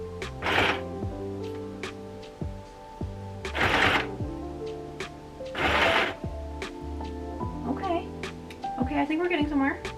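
A home sewing machine stitches fabric in three short whirring bursts, with a steady tonal hum and a voice in between, close and fairly loud.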